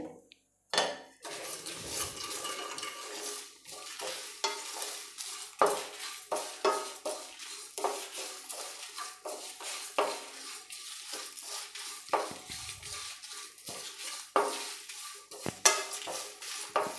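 Mustard seeds and spices dry roasting in a hot pan for a capsicum and brinjal curry, with repeated close clinks and scrapes of a spoon stirring against metal and a faint crackle underneath, continuous throughout.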